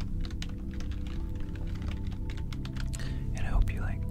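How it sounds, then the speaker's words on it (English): Rapid, continuous keyboard typing, close and clicky, over a low steady hum with faint murmuring near the end. "I hope you like the keyboard sounds"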